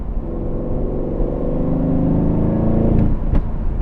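An Aston Martin V8 supercar in track mode revs hard, its engine note climbing steadily in a loud, close, rumbling roar before a sharp crackle as the throttle lifts near the end.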